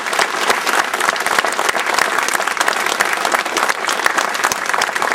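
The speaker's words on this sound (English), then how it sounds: "can we have a round of applause for the panel?" Loud, close audience applause for a panel at a celebration event, dense and sustained clapping from a full room throughout.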